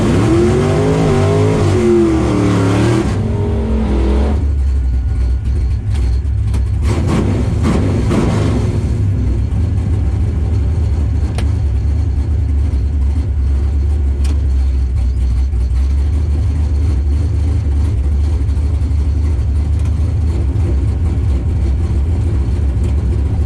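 Drag racing cars at Tulsa Raceway Park rumble and rev steadily, with a brief voice early on and a surge of revving around the middle, a heavy low drone throughout.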